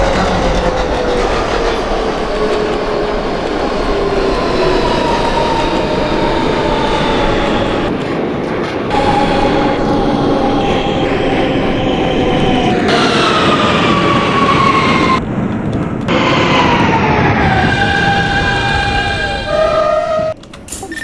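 An NYC Subway R160B Siemens train in a simulated ride runs loud and continuous, its motors whining up and down in pitch as it accelerates and brakes, with wheel clatter beneath.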